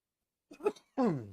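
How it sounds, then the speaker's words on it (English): A person coughs twice in close succession, a short harsh burst followed by a longer, rougher cough, loud and close with silence before and between. "Sorry about that coughing too"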